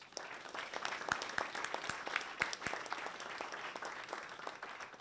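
A press conference crowd in Huntington gives a round of applause, moderately loud clapping with distinct individual claps standing out from the steady patter.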